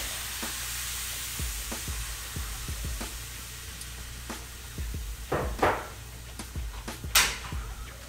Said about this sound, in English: Let me make sure this garlic does not burn in the pan.